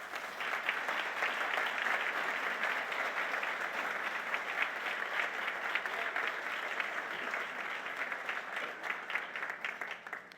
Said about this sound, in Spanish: Otro fuerte aplauso, por favor.